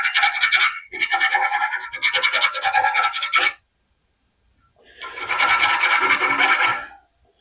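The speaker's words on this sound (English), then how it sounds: "I'll run the file through it." A metal file rasps inside fishmouthed steel tubing for a 1956 CJ5 Jeep build, in close, loud, rhythmic strokes that are grouped into two bursts separated by a silent pause, with no talking.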